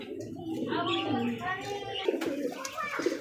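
Large pigeons coo in a loft or market setting, with soft throaty calls close by and mixed with people talking throughout.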